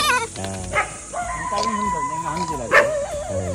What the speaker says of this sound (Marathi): कुत्रे सगळ्यांना पळवतात।